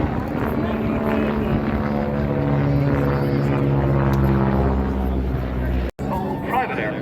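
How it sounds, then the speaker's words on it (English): A Stearman biplane's radial engine drones loudly and continuously as it sweeps through S-turns along an air show display line in Rush, Ireland, the pitch shifting slightly with each pass while an announcer talks over it. "showing us what the Stearman can really do with a series of S-turns up and down the display line this afternoon"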